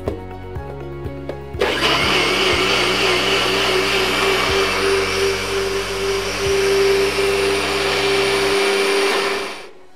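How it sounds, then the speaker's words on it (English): A countertop blender pureeing cooked zucchini soup starts up with a loud, steady whirring roar that runs for about seven seconds before cutting off, with a low hum underneath. "And we're gonna blend our soup."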